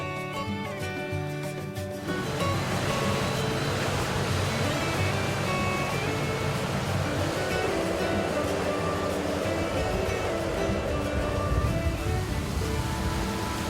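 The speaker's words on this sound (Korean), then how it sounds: "거친 파도를 가르며 힘차게 나아가는 이사부호" The research vessel Isabu ploughs through rough seas, a loud continuous roar of churning waves and rushing water that swells in after a brief quieter moment with faint tonal sounds.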